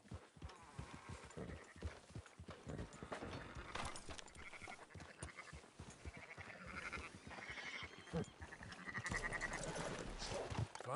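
Sheep bleating in the Red Dead Redemption 2 video game, mixed with clip-clopping hooves and a busy, continuous layer of game ambience and sound effects.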